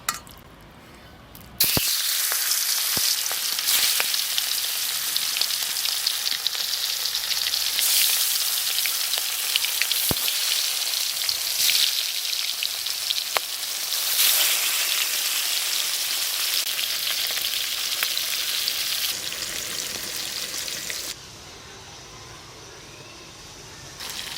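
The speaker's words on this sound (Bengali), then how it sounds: "সর্ষের তেল, তেল গরম হয়েছে, মাছ কড়া দিয়ে দেবো।" Ritha fish frying in hot mustard oil, a loud, steady, dense sizzle that starts abruptly after a quiet moment and crackles on without pause, easing slightly toward the end.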